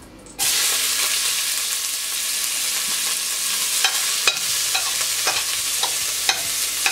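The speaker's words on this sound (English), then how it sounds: "Onion, I also have a little bit of parsley and minced garlic. So I'm gonna add that into the pot." Bell peppers, onion, parsley and minced garlic drop into a hot pot for stir-fried cabbage, setting off a sudden loud sizzle that keeps frying steadily, with occasional clicks of stirring utensils.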